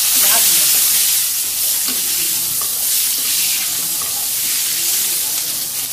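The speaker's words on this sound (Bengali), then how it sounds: "একটু হলুদের গুঁড়া আর লবণ দিয়ে আলুটা ভাজবো।" Potatoes fry in oil with turmeric powder and salt, giving a loud, continuous close-up sizzle and hiss with faint stirring underneath.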